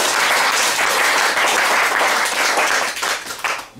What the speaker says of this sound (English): give Jesus a clap offering tonight.